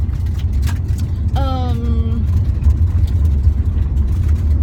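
Steady low rumble of a car being driven, heard from inside the cabin, with a brief voice sounding partway through over the constant road and engine drone.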